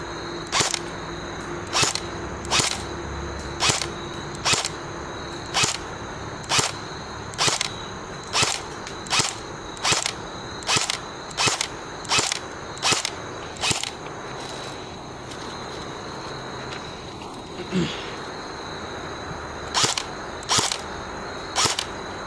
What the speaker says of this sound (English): I'm going to be just shooting from my shoulder cross position.